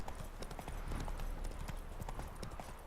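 Horse hooves clip-clop in a steady rhythm while riding in The Witcher 3: Wild Hunt, the trotting beat loud and close over a low ambient game backdrop.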